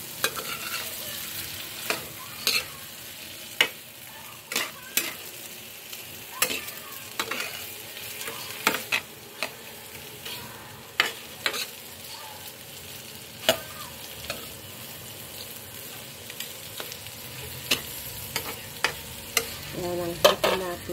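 Garlic frying in a pan for shrimp cooked with peach juice gives a continuous soft sizzle, punctuated by frequent sharp clicks and scrapes of a utensil stirring against the pan, close and steady with no voices.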